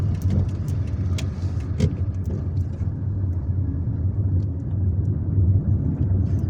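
A car drives through the streets of Algiers, its engine and tyre rumble steady and close throughout, with faint street noise around it.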